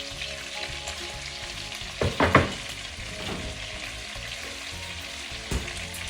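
Onions and pepper frying in a pot for an oxtail stew, a steady broad sizzle throughout with a few sharper stirring clatters near the middle and one more toward the end, no talking.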